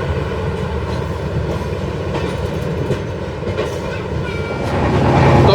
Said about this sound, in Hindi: ट्रेन विजयवाड़ा जंक्शन से चलती है।